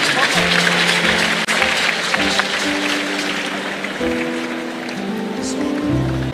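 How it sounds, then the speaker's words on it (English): An audience at a church service applauds a couple, a steady wash of clapping hands under a voice and sustained music tones. "Let's clap for this couple."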